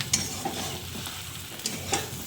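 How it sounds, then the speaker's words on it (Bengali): Meat and potatoes sautéed in a kadai, soft sizzling under repeated stirring scrapes of a spatula, close and fairly quiet, no voices. "ভালো করে কষা হচ্ছে, আলুগুলো দিয়ে দিলাম"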